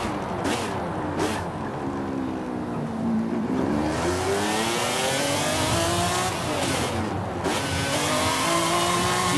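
A 1997 McLaren F1 GT engine in the Forza Horizon 5 racing game revs loudly and continuously, its pitch sweeping up and down through gear changes, with occasional tire squeal.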